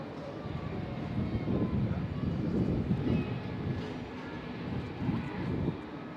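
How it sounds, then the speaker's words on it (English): An ITA Airways jet in special livery pushing back at Amsterdam Schiphol airport, a steady low engine and ground-equipment rumble that swells and eases slightly throughout, heard from a distance. "ITA with the special livery is pushing back right now."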